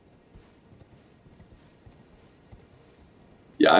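Galloping horse hooves in Elden Ring: Shadow of the Erdtree, a soft steady clip-clop running low and quiet before a sudden loud burst right at the end.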